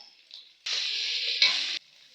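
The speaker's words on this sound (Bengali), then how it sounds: "পেঁয়াজ তো আমার ভালো করে ভাজা ভাজা হয়ে গিয়েছে" Onion paste sizzles loudly in a pan with ghee and oil, a steady close frying hiss that swells for about a second with a brief stirring scrape partway through, then drops back to a faint simmer.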